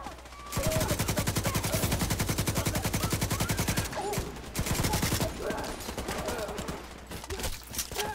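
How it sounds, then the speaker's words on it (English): Rapid automatic gunfire from The Division 2, a dense sustained burst of shots for several seconds, then a short pause and more scattered firing with clattering impacts and faint game sounds. "shoot the guy on the left. I got the guy on the right."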